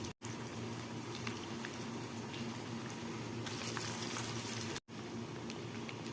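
Onion fritters (peyaji) frying in a pan of hot oil, a dense, steady bubbling sizzle heard up close, briefly cut out twice.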